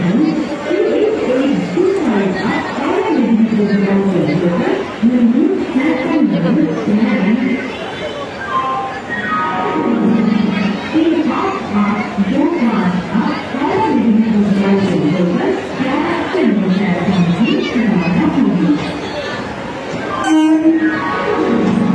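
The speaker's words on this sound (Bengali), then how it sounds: "আর কি বিশাল পরিমাণ ভিড় আমরা লক্ষ্য করতে পারছি" Huge crowd packed into Howrah railway station during rush hour on a Ram Navami holiday, dense overlapping chatter filling the concourse with a loud voice talking close over it and a brief sharp clatter near the end.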